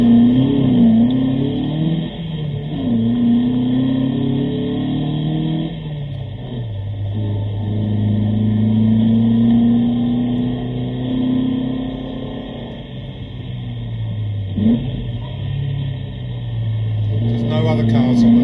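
A Sunbeam Alpine with a 1592 engine lapping a track day, its engine close and loud, revving up and down through gear changes with rising and falling pitch. The run stays continuous, with only occasional faint voice.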